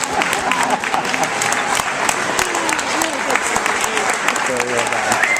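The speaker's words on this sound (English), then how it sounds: "If you weren't standing to give him a round of applause, you ought to be." Audience applause from a seated crowd honoring a fifth grader's reading, a dense, loud and continuous clatter of many hands clapping across the whole stretch, with no pauses.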